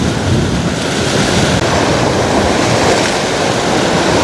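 Strong wind buffets the microphone in a dense, continuous roar while shore fishing on the coast of Jeju, with rushing water noise blended underneath.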